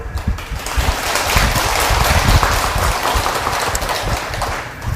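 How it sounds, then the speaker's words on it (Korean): Audience applause at a Korean Buddhist temple's Baekjung closing dharma talk, a steady dense wash of many hands clapping nearby, filling the whole stretch at an even level with no talk over it. "박수."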